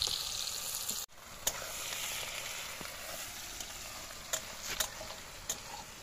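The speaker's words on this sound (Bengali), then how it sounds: "প্রথমে তেল দিয়ে পেঁয়াজগুলো ভেজে নিল" Onions frying in oil over an outdoor picnic stove, a close, steady bright sizzle with a few sharp ticks and scrapes scattered throughout.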